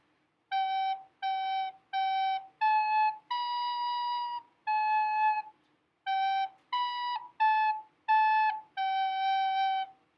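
A melodic passage from the French folk song Au Clair de la Lune plays as a dozen clear, separate whistle-like tones in a steady, unhurried rhythm, close and alone with silence between notes.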